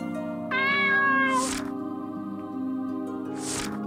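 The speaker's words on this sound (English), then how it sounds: "Hello kitty, pet the cat." A cat in a video game meows twice, close and clear: a rising, drawn-out first call followed by a shorter second meow after a pause, over a soft steady game-music background.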